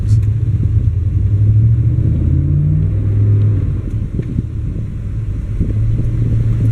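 A car engine idles low and steady close by, a deep continuous rumble with a slight dip in the middle and no talk over it.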